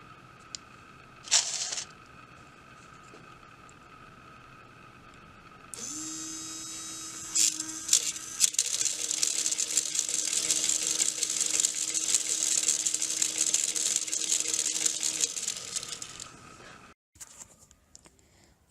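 A geared electric motor runs continuously on a DIY accelerometer test rig with an MDF base and blocks, a steady whirring buzz with a low tonal hum, preceded by brief clicks and handling noise, then stopping abruptly.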